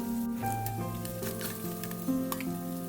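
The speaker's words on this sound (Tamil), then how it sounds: "2 பக்கமே ஃப்ரை பண்ணி எடுத்துக்கோங்க." Paneer frying in hot oil, a close, steady sizzle with occasional crackles running the whole time, no voices.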